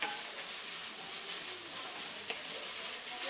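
Onion, ginger and garlic sautéing in a pan for goat curry, giving a steady, close, broadband sizzle and hiss that runs evenly throughout with no talking.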